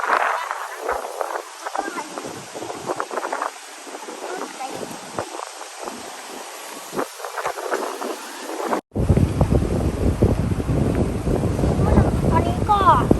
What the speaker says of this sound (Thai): แค่ลมมันแรงแค่นี้ทุกคนต้นไม้จะเต้นอยู่แล้วเนี่ย